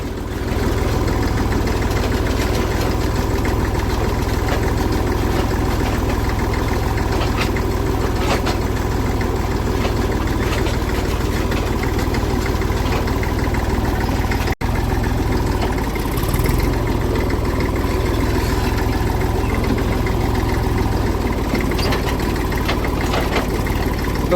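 Tractor engine runs steadily in a farm field, a continuous low rumbling idle that holds at a close, even level for the whole stretch with no talk.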